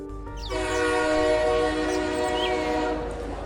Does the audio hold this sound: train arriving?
yes